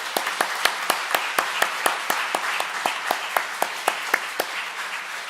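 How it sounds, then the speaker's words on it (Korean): Crisp, evenly spaced rhythmic clapping from a congregation at a New Year's Eve church service, applauding the choir; sharp individual claps keep a steady beat over a soft crowd murmur. "여러분 다시 한번 가브리엘 찬양대에게 더 잘하라고 박수 한번 할까요?"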